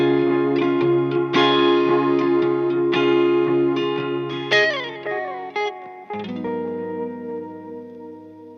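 Electric guitar played through effects pedals and an analog spring reverb in a studio, loud strummed chords and picked notes with lush, splashy echo and chorus shimmer, playing alone and ringing out at the end.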